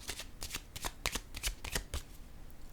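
A deck of playing cards is shuffled up close, a quick run of crisp riffling flutters repeating for a few seconds with no voices.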